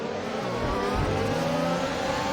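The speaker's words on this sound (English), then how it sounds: "there goes the Alfa Romeo of Apex Racing around" An Alfa Romeo race car in an Australian Grand Prix race passes close by on the track, its engine a loud, steady high-revving roar that holds throughout with no talk.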